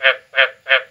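Three loud, close croaks from a male frog at a frog pond after a night of rain, each a short buzzy call repeated in quick, regular rhythm with silence around them.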